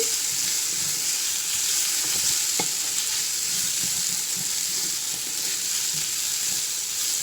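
Ginger and onion sizzle in a pan in a loud, steady hiss that runs the whole time, with faint scrapes and taps from stirring underneath. It sounds close and continuous, with no voices.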